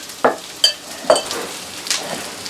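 Cooked spaghetti squash is fluffed with a utensil in a pan, making a few soft, close scraping strokes and light sizzles in short bursts with no talking.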